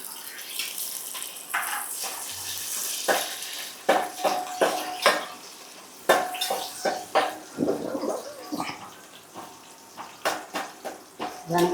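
Garlic frying in a pan during home cooking for a chicken curry roast, a steady sizzle with clattering utensil knocks and scrapes scattered throughout, close and fairly loud.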